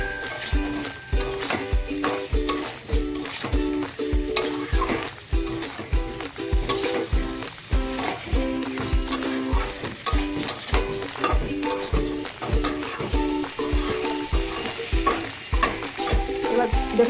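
Spice paste and prawns stir-fried in a pan, a loud continuous sizzle broken by regular rhythmic stirring strokes across the whole stretch, with no voices.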